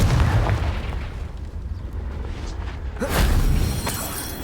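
A Confringo fire spell from the wizarding game Hogwarts Legacy bursts as a deep, rumbling blast over steady low battle noise, swelling again near the end with a second loud, booming impact.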